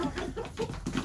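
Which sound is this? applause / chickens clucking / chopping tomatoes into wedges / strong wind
chickens clucking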